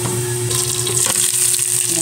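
Chicken liver and gizzard fry in hot oil, giving a dense, steady sizzle with crackling spatter that holds loud and close for about two seconds.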